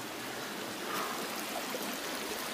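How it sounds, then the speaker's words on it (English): Spring water trickles steadily at close range beside an old round stone structure like a castle turret, a soft continuous flowing wash with no voices. "And there's the spring water."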